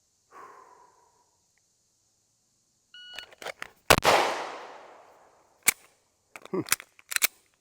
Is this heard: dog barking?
no